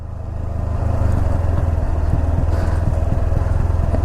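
A vehicle engine chugging and rattling with a rapid, steady knock while descending a steep mountain road, loud and continuous throughout with no talk.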